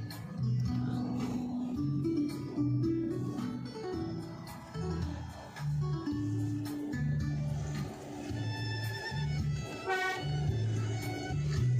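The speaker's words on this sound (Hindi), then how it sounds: "गाड़ी का हॉर्न भी चेंज हो गया हाई एल्टीट्यूड में चढ़ के" Car horn blasts sound in a high-altitude mountain setting on a snowy road near Tawang, Arunachal Pradesh, India, a series of strained, wavering tones of changing pitch repeating over engine noise.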